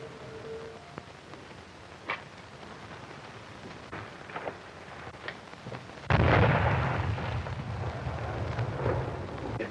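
A single loud bomb blast from a 1936 film bursts in abruptly after several seconds of quiet, sparse knocks, then holds as a heavy, sustained rumble with rushing debris noise to the end.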